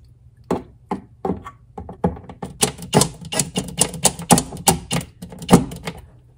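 Fasteners are tightened on a drawer's roller slide hardware, giving a close series of sharp clicks, taps and knocks that quicken into a dense, irregular clatter before tapering off.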